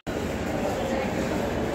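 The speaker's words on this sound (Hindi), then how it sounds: "जो मेट्रो आ गया जी" A Delhi Metro Pink Line train pulls into the station with a steady, loud, continuous rumble of rolling wheels and rushing air that starts abruptly and holds throughout.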